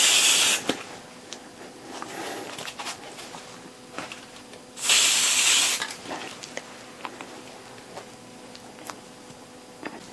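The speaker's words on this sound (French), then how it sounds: "la pression sur le spray, donc on peut avoir des transparences ou au contraire des choses plus opaques" Spray paint can hissing in curving passes for abstract stencil painting, two strong bursts of broadband hiss, one short near the start and a longer one midway, with quiet studio sounds between.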